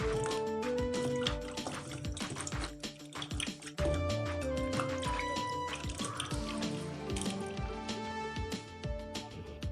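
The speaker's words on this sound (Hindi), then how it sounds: "अब ये पानी निकाल देते हैं इसका।" Water drains and splashes in a steady, busy stream as washed chicken feet are rinsed in a kitchen vessel, with clattering taps and drips throughout, fairly close and continuous.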